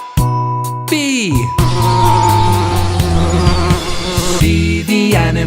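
Children's nursery-rhyme animal-sound game: a bee's buzz set against a bright, busy musical backing with sharp tonal accents, loud and continuous throughout.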